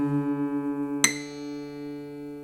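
Two guitar strings ringing together while nearly in tune, producing a slow wobbling beat in the sustained tone, followed by a sharp pluck partway through that rings on steadily and quietly.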